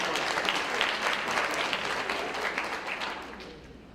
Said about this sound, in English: Mr. Rosen, give him a round of applause.